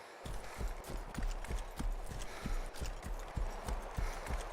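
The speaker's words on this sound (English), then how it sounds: "Why is a cow walking around an airfield?" Hooves of a cow walking across an airfield in the DayZ video game, a steady, evenly paced run of soft thuds close by over a windy outdoor ambience.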